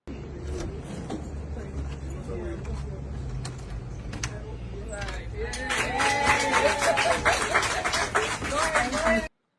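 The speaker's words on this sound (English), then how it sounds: "Big applause." Big applause breaks out at a home handover as a young woman turns the key to her new house, the clapping swelling loud and dense in the second half over crowd noise and talk.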